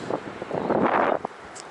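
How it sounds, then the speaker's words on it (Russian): Wind blowing across an open, treeless seaside campsite in Crimea, heard as a broad, steady buffeting rush on the microphone that swells in the middle and eases off toward the end. "Надеюсь, ветер нам не помешает."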